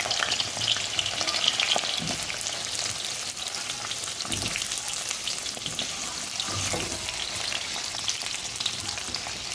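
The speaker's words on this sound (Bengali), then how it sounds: "আগে আলুগুলো ভেজে নেব" Potatoes fry in an oil-filled kadai, giving a steady, close crackling sizzle that runs unbroken throughout, with no voices.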